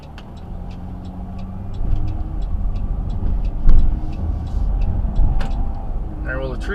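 A car driving down a road toward the sun, heard from inside the cabin as a steady engine and tire rumble that swells slightly midway, with a voice speaking at the end.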